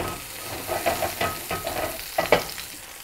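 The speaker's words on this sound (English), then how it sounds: "Sear that." Pot roast searing in a hot pan, a soft sizzle with scattered stirring and scraping sounds, fairly close and moderately quiet, with no voices.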